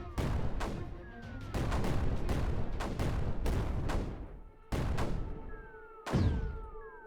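Snipers firing in Creeper World: a fast volley of sharp shots over a sustained roar, with brief pauses, a few falling tonal whines and a heavier blast near the end.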